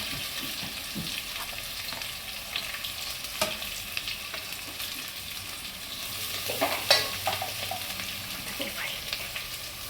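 Long-sliced onions sautéing in a pan for Hyderabadi biryani, a soft continuous sizzle with scattered spatula scrapes and knocks, close and moderately loud with no talking.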